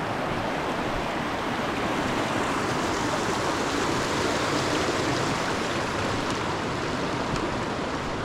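A river flows beside a mountain hiking trail, a dense, steady rushing of water, close and continuous, with no voices.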